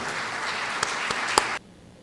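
An audience applauds to welcome a speaker at a university lecture, a brief dense burst of clapping that stops abruptly.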